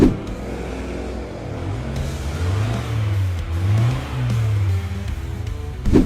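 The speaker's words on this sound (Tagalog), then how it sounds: "Even though naka-exhaust, Papi, hindi siya ganun kaingay, no" A Subaru WRX engine revs up and down repeatedly through its aftermarket exhaust, a rising and falling drone with a steady rumbling hiss underneath.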